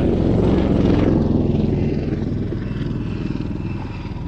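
A Royal Navy Wildcat helicopter of 825 Naval Air Squadron's Black Cats display team roars loudly overhead, its rotor thump and engine whine fading gradually as it moves away.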